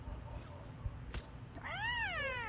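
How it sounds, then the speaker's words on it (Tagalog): A cat meows with a rising and falling wail inside the Call of Duty Mobile game, heard near and clear near the end over a low game background hum. "Nandito yung pusa."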